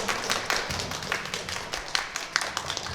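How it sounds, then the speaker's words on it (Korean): A film-talk audience claps steadily after a discussion with the director, moderately loud and close, a dense patter of hand claps with a few sharper individual slaps. "큰 박수 부탁드리겠습니다"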